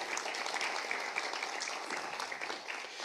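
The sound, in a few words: congregation applauding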